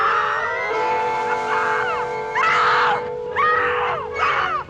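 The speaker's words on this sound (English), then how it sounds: "Yeah, the scream." A man's scream in a 1961 Twilight Zone episode, loud and drawn out, recurring in three or four strained bursts with wavering pitch over a steady background hum.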